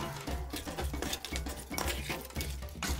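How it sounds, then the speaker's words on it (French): Goat meat being mixed by hand with seasoning ingredients in a bowl, giving close, continuous soft clinks and scraping with squelchy stirring, no talk. "Dernière étape avant la cuisson, c'est le mélange. Donc là, je mélange tout"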